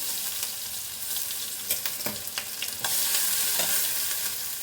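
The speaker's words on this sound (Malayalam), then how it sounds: "ജീരകം പൊട്ടിക്കഴിയുമ്പോൾ നമുക്ക് ഇഞ്ചിയും വെളുത്തുള്ളും കൂടി ചേർത്ത് കിട്ടും" Cumin, ginger and garlic sizzle in hot coconut oil while rasam is being made, a steady loud frying hiss broken by scraping stirs of a spoon against the pan, close by with no talk.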